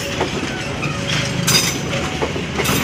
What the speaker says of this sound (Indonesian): kereta api lokal Bandung Raya